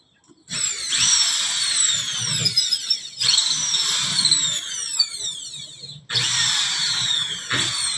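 A power drill backing screws out of a ceiling, three separate bursts of high whining spin with falling pitch as each screw loosens, close and loud with short pauses between.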